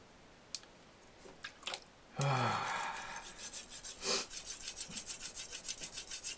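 A knife blade is stroked across a brick: an abrupt loud scrape opens it, then a run of quick, evenly spaced rasping strokes follows at close range, with a few softer scuffs before.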